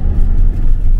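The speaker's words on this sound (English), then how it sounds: "another motorhome" A motorhome passes close by on a town road near Weymouth, a loud, low engine rumble and tyre roar that swells briefly and holds.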